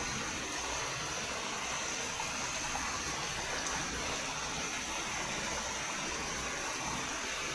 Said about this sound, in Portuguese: Barulho da chuva.